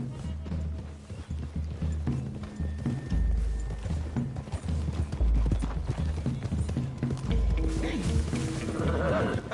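Horse hooves clip-clop steadily while riding through woods in Red Dead Redemption 2, a rhythmic close trot under game music and ambient sound.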